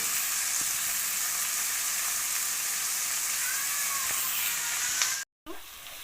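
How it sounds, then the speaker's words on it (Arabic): Liver fries in a hot pan with a loud, steady sizzle and hiss that continues alone for several seconds, then cuts off briefly and resumes more quietly. "اول ما الطشه دي اسمعها اعرف ان الكبده مش هتنزل اي ميه"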